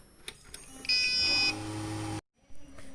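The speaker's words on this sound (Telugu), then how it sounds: "విన్నారు కదా బజర్." A desktop computer motherboard buzzer beeps at power-on, signalling missing or faulty RAM: a loud, harsh, sustained tone, followed by a short gap and a quieter continuing hum, heard close up.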